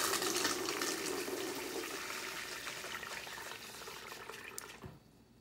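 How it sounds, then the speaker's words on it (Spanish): Programmable water dispenser pouring one litre of water into a container: a steady rushing, splashing fill that continues for several seconds, then stops abruptly near the end. "se llenó el recipiente con un litro de agua"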